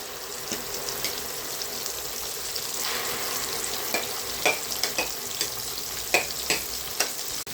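Ground coriander and mint paste sizzles and fries in a hot pan as it is stirred, a steady hiss broken by a series of sharp spoon taps and scrapes toward the end, with no voices.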